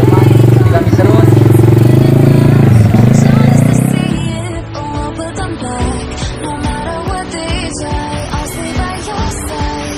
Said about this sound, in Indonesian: jadi kita akan mencoba naik motor ini ya, karena saya belum pernah motor ini ya